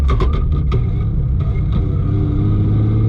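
A Barra-engined GT350 with a PPG sequential gearbox accelerates hard, its loud engine roaring steadily while a few sharp clunks near the start mark gear shifts.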